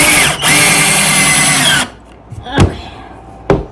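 A power drill runs in one loud, steady whir for nearly two seconds while a temporary wall is being built. Two brief sharp knocks follow, close by.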